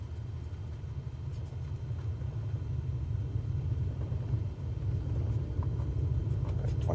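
A simulated aircraft engine at full power during the takeoff roll in Microsoft Flight Simulator 2024 gives a steady, deep droning rumble that stays constant and fairly quiet throughout, with no voices.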